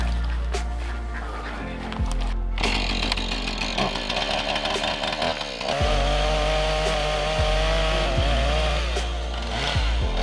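A chainsaw cuts a tree on a homestead, its engine close and loud, revving in steady bursts with a short pause near the middle, alone without talk.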